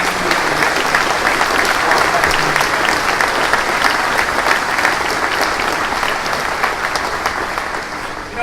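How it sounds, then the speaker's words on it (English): Sustained, dense applause from a large audience at a military base event, honoring service members' families and spouses, steady and loud throughout before tapering slightly at the end. "why don't we give a big round of applause for all the family members and spouses who are here with us today"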